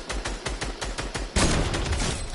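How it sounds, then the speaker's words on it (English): Sniper and weapon fire in Fortnite, a steady run of evenly spaced loud shots followed by a bigger, denser burst of gunfire, with no talking over it. "I just sniped someone"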